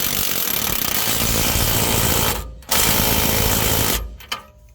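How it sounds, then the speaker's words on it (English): A ratcheting socket wrench fitted with a 21mm deep socket tightens an axle nut on a Ford F150 wheel end, producing a loud, close, continuous rapid clicking rattle that stops briefly, resumes, then trails off in a few short bursts. "Then grab your 21mm deep socket and torque this nut down to 85 foot-pounds."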